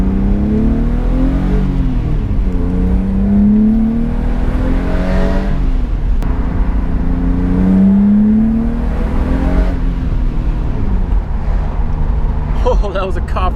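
A BMW E36 accelerates hard on an open road, the engine note climbing through repeated gear pulls in a steady loud drone heard from inside the car, with someone talking over it.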